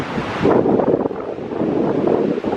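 Steady wind buffeting the microphone by the sea, a broad low roar that swells and dips, no voices.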